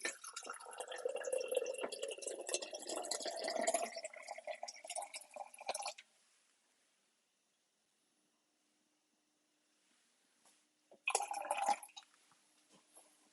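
Water poured into blue corn in a cooking pot, a close liquid pour running for several seconds, then quiet, then a brief second splash near the end.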